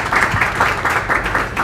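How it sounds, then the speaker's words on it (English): A conference audience at a ReactJS Boston tech event claps in a steady, continuous round of applause, with no other sound standing out. "So let's give a big round of applause for Kristen."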